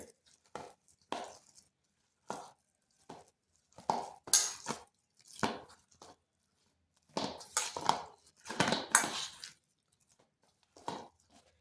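Semolina and yogurt dough, with a little cornflour, is worked by hand in a bowl. It makes intermittent soft squelching, scraping bursts with quiet pauses between, and no talking.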